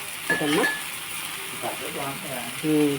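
Oil sizzles in a pan as a ragi flour dosa cooks, a soft continuous frying crackle heard close up beneath intermittent talking.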